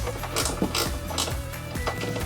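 A wrench works a bolt loose on a GR86 hood strut, giving a run of quick metallic ratchet clicks and taps, close and fairly quiet, repeating in short uneven bursts.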